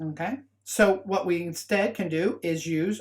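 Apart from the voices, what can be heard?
None of the usual background noises is heard.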